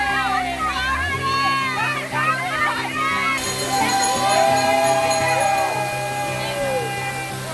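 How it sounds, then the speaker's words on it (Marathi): A secret waterfall in the Bhimshankar jungle rushes as a constant broad roar beneath a crowd of people talking and calling out nearby. "अखेर आपण या सिक्रेट वॉटरफॉलला पोहोचलेलो आहोत."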